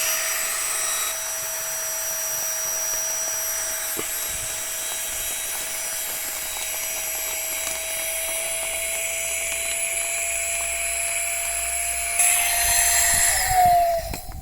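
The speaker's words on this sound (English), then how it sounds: "Again, using my flex tail gear inflator." Flextail Gear electric inflator pumping up an air mattress, a steady high-pitched whirring whine held close and even throughout, shifting slightly in tone near the end as the mattress fills, with no talking.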